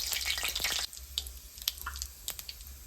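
Mustard seeds and cumin frying in hot oil in a pan for a Maharashtrian vegetable dish, with faint sizzling and scattered sharp pops and crackles, close but quiet.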